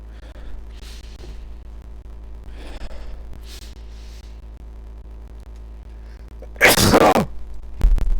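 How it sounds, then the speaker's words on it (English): A single loud, explosive sneeze bursts out near the end after quiet breathing and faint rustling, followed by a brief second burst of sound. "I have to sneeze"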